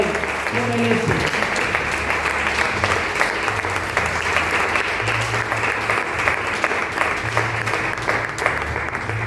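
A congregation in church claps in praise, producing continuous, even applause that fills the room, with low sustained tones, likely instrumental, running underneath.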